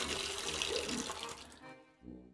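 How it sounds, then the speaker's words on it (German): Water pours into a bucket in the adventure game Otherworld, a running-tap splash that fills steadily for over a second, then fades to a short quieter gurgle. "Befüllen ihn mit Wasser."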